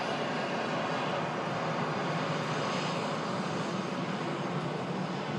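A steady, loud roar of an airplane engine at Manchester airport, continuous and unbroken, with no voices over it.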